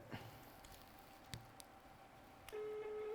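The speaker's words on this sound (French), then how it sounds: "Ça sonne." A telephone call connects with a few faint clicks and then a steady ringing tone that begins partway through and holds to the end.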